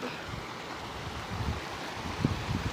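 A wide river at Barangay Tandarora in Guinobatan, Albay, flows with a steady broadband rush and a low rumble of wind across the microphone. There are a few soft swells, and no one talks over it.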